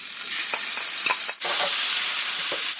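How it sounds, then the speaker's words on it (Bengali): Onion paste dropped into hot oil spiced with bay leaf, whole garam masala, cardamom, cinnamon, cloves and hing, giving a loud, steady close sizzle with a few spoon scrapes and a brief dip midway. "দিচ্ছি পেঁয়াজ বাটা"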